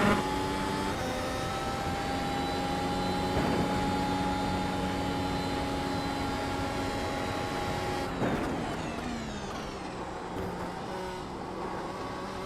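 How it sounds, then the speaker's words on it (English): Simulated Mercedes HPP Formula 1 engine in the iRacing game at the Nürburgring Grand-Prix-Strecke, a high, tonal engine whine that holds steady, then drops sharply as the car shifts and changes pitch. "The soothing sounds of the simulated Mercedes HPP Formula 1 engine."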